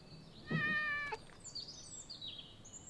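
A cat in the Animal Doctor video game gives a single clear, drawn-out meow at moderate loudness, followed by faint chirpy game sounds.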